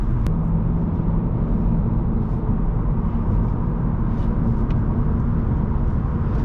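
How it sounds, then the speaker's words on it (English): Inside a 2024 VW Golf GTI 380 SE on the move, a steady low tire roar fills the cabin with a faint rush of wind above it, constant and even, with no talk. "the only thing I hear is a little bit of tire noise and minimum wind"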